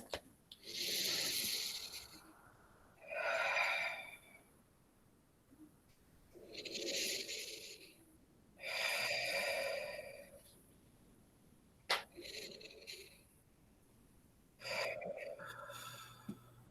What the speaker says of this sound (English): You're going to take 3 long, deep breaths.